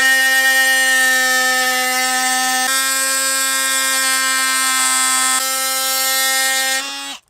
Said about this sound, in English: I'm going to cut them off using my multi-tool